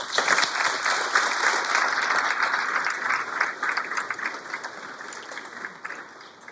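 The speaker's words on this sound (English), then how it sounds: "let's give them all a round of applause" A room full of people at a city State of the City event in Altoona, Wisconsin claps steadily, a dense patter of applause that slowly fades toward the end.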